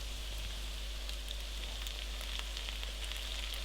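Corned beef and chili flakes sizzle steadily in a hot pan, a continuous close crackling hiss with a low constant hum beneath and no talking.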